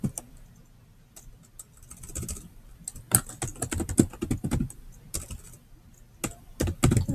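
Fingers type on a Chromebook keyboard, making crisp, close clicks in quick irregular bursts with short pauses between, alone without any speech.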